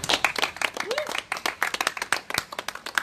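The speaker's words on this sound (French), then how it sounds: "on peut déjà tous s'applaudir" People at the occupied Grand Théâtre de Lorient applaud themselves to celebrate a legal victory, giving distinct, fairly close handclaps in a lively, irregular patter for a few seconds.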